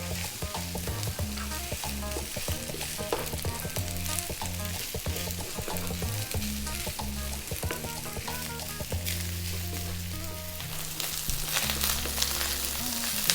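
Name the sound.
rice frying in a pan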